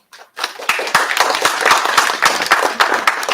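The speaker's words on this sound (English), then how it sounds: "thank you for clapping" Audience applause that starts abruptly after a brief silence and continues as dense, fairly close clapping from a crowd at a talk, steady and lively to the end.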